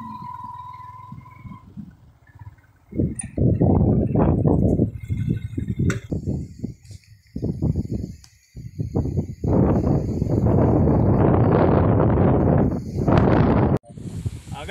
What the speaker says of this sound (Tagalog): malakas pala yung hangin dito sa taas